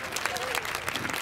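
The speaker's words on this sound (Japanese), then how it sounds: "皆さん温かい拍手をお迎えください。" Audience applause at a motorsport talk show stage in Odaiba, welcoming racing team director Masataka Bando; dense steady clapping throughout with an announcer's voice faintly over it.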